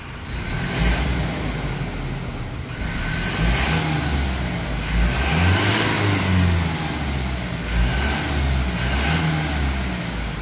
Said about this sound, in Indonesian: ini coba saya gas ya ini jendela saya buka kita dengarkan